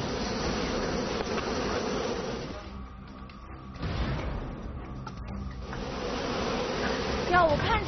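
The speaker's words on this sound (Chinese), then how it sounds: "还增加了脱粉器的空间，使得缓冲区域更大，调节温度的效果更好，更有利于蜜蜂工作。" Honeybees buzzing densely around a hive fitted with a pollen trap, a steady close swarm drone that dips briefly in the middle and then swells back to full strength.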